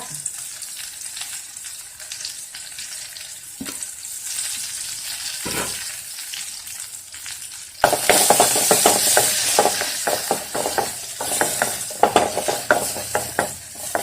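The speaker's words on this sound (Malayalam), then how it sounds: "ഉള്ളി നന്നായിട്ട് ചുമക്കുന്നത് വരെ ഒന്ന് വഴറ്റാം." Shallots sautéing in hot oil with mustard seeds, dried red chillies and curry leaves for a Kerala curry, sizzling steadily at first, then flaring louder midway with stirring scrapes and crackling pops close by.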